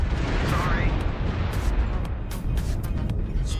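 An incoming missile blows up in a mech combat game with a loud, rumbling explosion over a heavy noisy battle bed, with a short whistling sweep and scattered sharp bursts. Talk runs faintly underneath.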